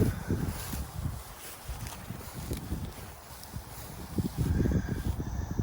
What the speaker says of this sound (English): It's a little bit windy, so have to bear with us.